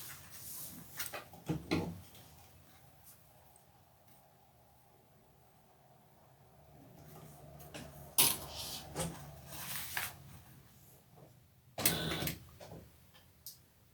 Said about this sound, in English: And then sew together at 3/8 inch.